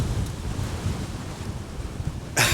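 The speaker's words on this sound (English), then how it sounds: "it's windy up here" Wind buffets and roars against the microphone in a low, rumbling gust on a hilltop near Great Ridge in Castleton, steady throughout with a sharper blast at the end.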